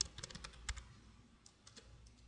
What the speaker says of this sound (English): I am having some issues typing